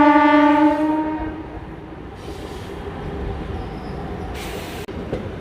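A MEMU train on the Vijayawada–Narasapuram line runs with a loud horn blast at the start, then a steady rumble of wheels on track with occasional clanks.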